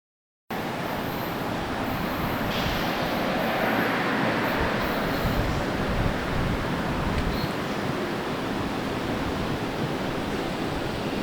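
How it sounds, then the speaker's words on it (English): A train pulls into a station in a played film clip, a loud, steady rumbling roar of rolling wagons that starts abruptly after a brief silence and continues without speech. "May we present Train Pulling into Station 2."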